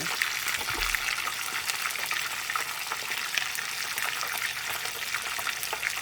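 Red snapper pieces frying in well-heated oil for a Jamaican-style dish, giving a steady, dense crackling sizzle throughout with no pauses and no talk.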